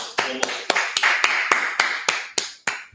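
Clapping closes a class at a religious gathering in a Harlem meeting hall, about ten sharp claps in an even, unhurried rhythm, each one followed by a short ring of room echo.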